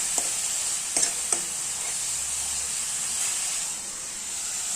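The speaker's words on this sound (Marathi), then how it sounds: "हे बघा मी आता इथं हिरवं वाटण घातलं आहे तर हे आपण आता चांगलं परतू द्यायचं" Green masala paste sizzles in hot oil with curry leaves, a loud continuous hiss of frying close by, with a couple of brief clicks from a stirring spoon near the start.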